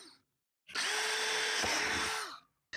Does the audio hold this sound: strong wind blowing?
no